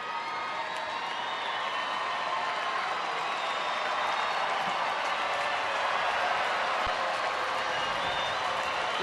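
Stadium crowd at a Texas Rangers baseball game against Cleveland, a dense sustained roar of clapping and cheering from thousands of fans backing the Rangers pitcher, loud and continuous throughout.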